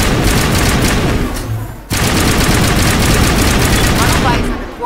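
Dense, loud automatic gunfire from a Mass Effect battle, continuous rapid bursts of crossfire with a brief lull midway before firing resumes at full intensity; voices can be heard in the mix.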